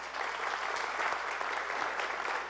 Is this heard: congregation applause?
yes